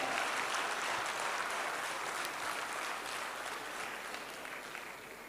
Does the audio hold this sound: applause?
yes